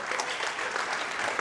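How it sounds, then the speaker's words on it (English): A library trivia event crowd applauds the winning team with steady, moderately loud clapping from many hands throughout. "A round of applause to the winning team."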